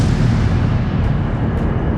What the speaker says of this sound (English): a powerful explosion rocks the Deepwater Horizon drilling platform in the Gulf of Mexico